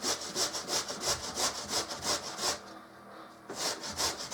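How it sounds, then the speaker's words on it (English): A whole potato scraped across a grater for hash browns, a brisk rhythmic rasping of about a dozen even strokes, pausing briefly before a few more. "we're going to grate this up."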